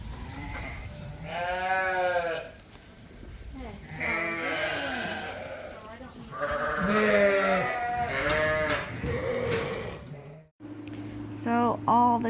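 Several sheep gathered in a barn bleat loudly and repeatedly, overlapping wavering cries close by, with a brief pause before a final bleat.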